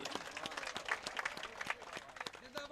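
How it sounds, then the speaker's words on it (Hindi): Audience applause at a mushaira poetry gathering in Vaijapur, a steady patter of many hands clapping at moderate level, with faint voices mixed in. "उनके लिए तालियां बजाइए"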